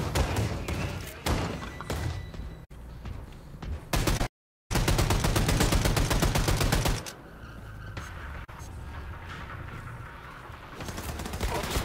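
Heavy gunfire in Wolfenstein II: The New Colossus, with dense bursts of rapid automatic fire and thudding impacts, one brief cut to silence, then sustained loud volleys tapering into quieter scattered shots.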